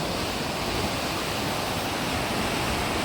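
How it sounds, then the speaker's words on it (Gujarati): Canal water rushes loudly at a junction of two canals, a dense, continuous roar that stays steady throughout with no other sounds. "પાણી કેટલું ધોધમાર અવાજ કરે છે."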